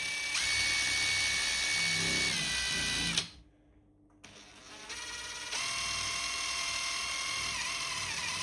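A power drill whines steadily as it drives a screw in reverse while a mirror is mounted on a plaster wall, stopping briefly midway before resuming with a higher, continuous motor tone.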